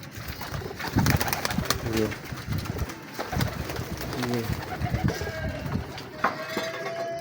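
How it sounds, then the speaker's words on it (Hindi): Lakha pigeons kept in pairs coo in repeated soft, throaty rolling phrases, close by, over a busy background with intermittent rustling and a voice speaking briefly. "ये भी जोड़ों वाले कबूतर ही हैं"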